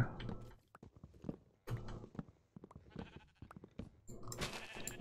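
Minecraft sheep bleat several times among other game sounds, producing short, nasal cries that repeat irregularly at moderate volume.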